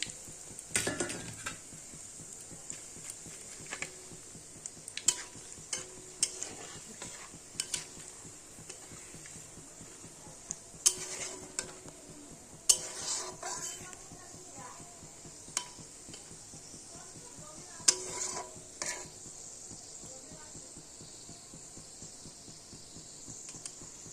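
Whole spices crackle in hot oil: cumin, dried red chillies, bay leaves and whole garam masala for a mutton kosha. There is a steady faint sizzle with scattered sharp pops and utensil clicks throughout, close by.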